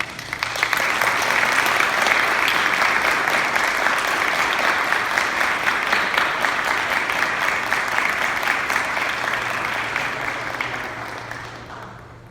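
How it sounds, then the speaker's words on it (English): A crowd at a military graduation ceremony gives loud, sustained applause, with dense clapping that holds steady for about ten seconds before fading out. "So please join me in applauding Lieutenant J.G. Singajeni"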